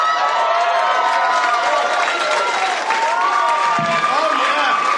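A full live comedy-club audience at the Improv applauds and cheers steadily, dense clapping with whoops and shouts throughout, loud and close.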